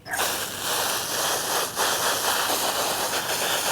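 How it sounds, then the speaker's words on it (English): Garden hose water sprays onto an upturned pool vacuum robot in a continuous, close, steady hiss with no pause. "Turn this upside down and just start spraying the sides."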